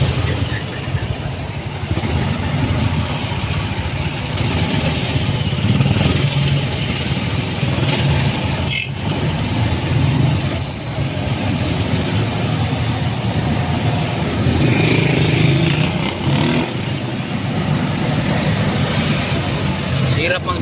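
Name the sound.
golf cart being driven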